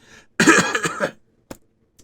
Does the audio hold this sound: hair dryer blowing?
no